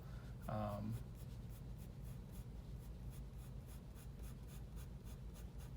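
Pencil strokes drawing hair on paper, a rapid rhythmic scratching that repeats steadily and faintly over a hum, with a brief tonal sound near the start.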